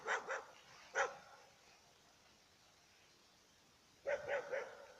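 A dog on a forest walk barks faintly in the distance: a couple of short yaps, one more bark, then a quick cluster of barks after a quiet pause.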